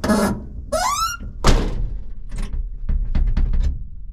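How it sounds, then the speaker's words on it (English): Door locks on a 1981 Dodge D150 truck engage with a solid thunk, preceded by a short mechanical squeak and followed by several lighter clicks and knocks of the lock mechanism, all close and distinct. "it sounds like I am now locking the doors again"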